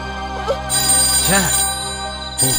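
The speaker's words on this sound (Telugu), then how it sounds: "రింగ్ అవుతుంది" A telephone rings in short warbling bursts, close and clear, repeating a few times with a steady tone humming underneath.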